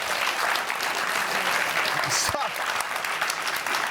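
Applause from a live audience at a cooking demonstration, a dense steady clapping wash heard throughout with a brief voice cutting through partway.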